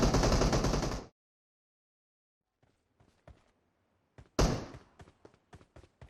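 Gunfire in PUBG Mobile: a loud blast followed by silence, then scattered sharp shots and a dense burst of rapid, close reports.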